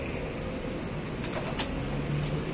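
Pigeons in a loft give soft, low cooing under a constant broadband background hiss, with a few faint higher chirps now and then.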